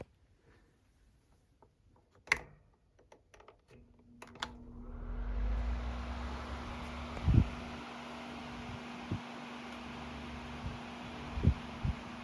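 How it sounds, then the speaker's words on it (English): A Duracraft DT-122 12-inch oscillating fan switches on at high speed after a few clicks and settles into a steady airy whoosh with a low motor hum, with occasional knocks and taps. "And now let's run the fan. We'll start it on high."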